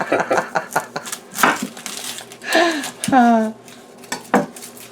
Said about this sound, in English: So now what I'm going to do is I'm going to cut this onion here. And peel it.